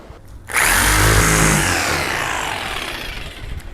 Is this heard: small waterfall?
no